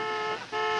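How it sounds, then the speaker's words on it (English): A car horn sounds in a sustained toot from out front of a house, holding steady, briefly dipping, then resuming loud and close, with no talk over it. "It's Neil, that's his honk."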